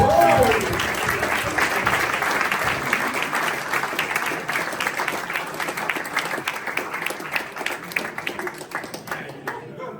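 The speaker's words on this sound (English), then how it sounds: "give yourself a round of applause" A crowd applauds at a football club event, with loud, dense clapping that starts strongly and continues throughout, thinning slightly toward the end.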